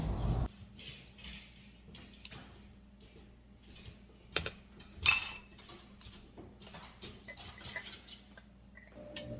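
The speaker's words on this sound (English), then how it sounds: "We now mix everything together" A spoon stirs chia seed pudding with raspberries, blueberries and mashed banana, giving soft scrapes and light clinks against the container, with a couple of sharper knocks midway, close and fairly quiet throughout.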